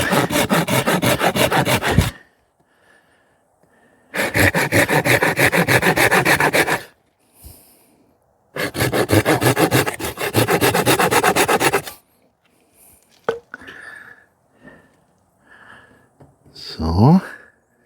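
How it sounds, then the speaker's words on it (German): A hand saw cutting notches into wood outdoors in a survival setting: three long bursts of steady back-and-forth rasping strokes, loud and close, separated by pauses with faint handling noises. "Ich säge das mal so ein bisschen vor, damit es dann ein bisschen einfacher wird."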